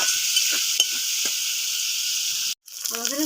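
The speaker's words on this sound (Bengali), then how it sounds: "ভালো করে মশলাটা কষিয়ে নেব।" Spice paste sizzles steadily while being fried and stirred in a pan for a Bengali chitol fish curry, a constant bright hiss with scattered scraping stir strokes, cut briefly near the end before the sizzle resumes.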